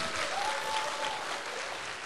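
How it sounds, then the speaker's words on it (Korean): A church congregation claps together at an evening revival service, a dense, even burst of applause filling the hall for a couple of seconds at moderate distance. "박수 한번 쳐줘요."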